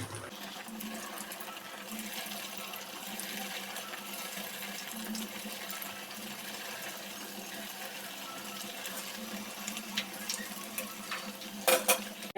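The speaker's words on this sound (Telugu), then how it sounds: "అదే ప్యాన్లో ఆయిల్ వేసుకొని హీట్ చేసుకొని ఒక్కొక్క పీస్ ఇందులో వేస్తూ ఫ్రై చేసుకోవాలి." Bread pieces frying in hot oil in a pan for bread halwa: a steady, soft sizzle and bubbling throughout, with a few clinks and scrapes near the end.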